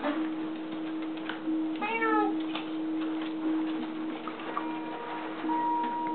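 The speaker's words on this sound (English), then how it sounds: "We don't even know where this cat probably belongs to somebody, Devin." A single cat meows once, a short wavering cry over a steady background hum, with faint ticking and small rustles around it.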